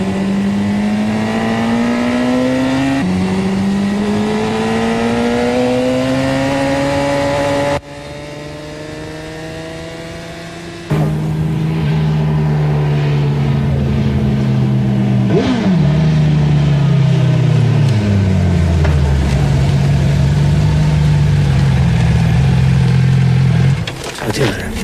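A motorcycle engine revs while riding through curves, loud and close, its pitch climbing through each gear, dropping sharply at the shifts, then winding down as the bike slows.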